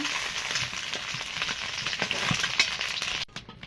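Eggs sizzle and crackle as they fry in hot oil in a kadai, with occasional scraping and stirring, before the sound cuts off abruptly near the end.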